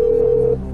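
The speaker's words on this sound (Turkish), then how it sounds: "Çalıyor Haluk Bey'in telefonu." A telephone rings with a single steady electronic tone that lasts about half a second and then stops, on a game show set. It is close and loud over faint background noise.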